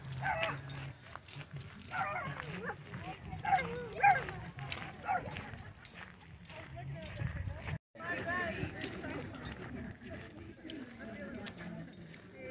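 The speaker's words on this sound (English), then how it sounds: "Look, puppies, Debbie" Puppies at an Arizona gathering in Quartzsite bark, yip and whimper in short, irregular bursts, mixed with people talking nearby and general outdoor bustle.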